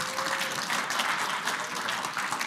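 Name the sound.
audience applause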